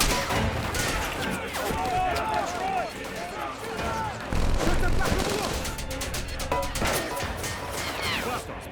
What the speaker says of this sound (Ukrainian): Що це кулемет.